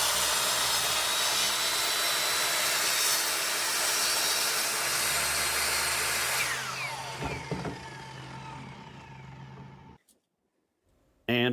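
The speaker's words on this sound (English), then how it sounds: "Then you just flip the board over and finish that last section of the cut." A power saw finishes cutting through a wooden fence picket board, a steady loud buzzing whine that bogs and winds down, then a short silence before a final clunk.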